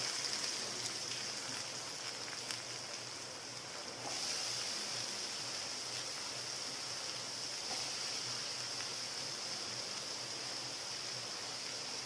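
Steady, even hiss of rain falling outdoors, continuous and moderately loud throughout with no voices.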